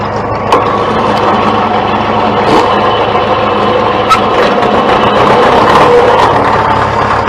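International tractor engine idling at an auction, a steady loud rumble with no choke, holding close and even with occasional small knocks and clicks.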